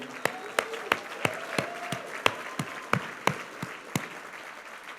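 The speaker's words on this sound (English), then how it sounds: "I want to give him a round of applause." Audience at an award ceremony honoring Smokey Robinson claps in spaced, sharp beats about three per second, with a faint voice underneath.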